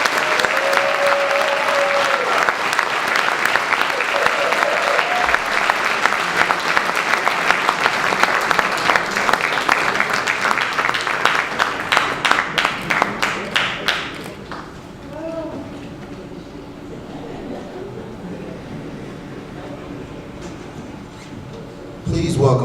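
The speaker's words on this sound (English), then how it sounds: "Please join me in a round of applause." A ceremony audience applauds steadily in a large hall honoring a Tuskegee Airmen graduate pilot, dense clapping filling about fourteen seconds before thinning out, with a faint voice over the clapping and quieter room sound afterward.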